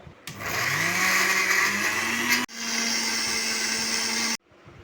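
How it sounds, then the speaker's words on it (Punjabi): A mixer grinder whirs loudly while blending a green salt chutney with black salt and roasted cumin, running about two seconds, cutting out briefly, then running again before stopping. "ਉੱਪਰ ਨੂੰ ਲਾ ਕੇ ਢੱਕਣ ਤੇ ਗ੍ਰੈਂਡਰ ਦਵਾਂਗੇ ਚਲਾ"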